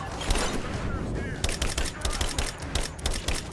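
Rapid bursts of AK assault rifle fire in the video game Rise of the Tomb Raider, loud, close, repeated shots in an uneven stuttering rhythm over a busy background of game sound.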